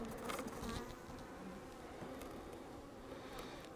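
A faint, even hum of honey bees flying around an apiary in the mid-afternoon warmth, a soft buzzing wash with no talking.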